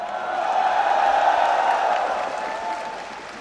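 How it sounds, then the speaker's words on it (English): Crowd applauding and cheering at the final of the 2023 Hanoi Open Pool Championship, a dense, steady wash of clapping with scattered shouts that swells and then slowly tapers. "The crowd in Hanoi whipped into a frenzy, and quite rightly so."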